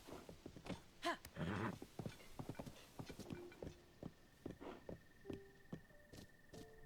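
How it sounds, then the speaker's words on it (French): A horse's hooves clip-clop in Zelda Tears of the Kingdom, a quick, close, rhythmic trot of distinct hoofbeats running throughout, with light game chimes and tones layered over it. "Attends, je vais arriver à cheval."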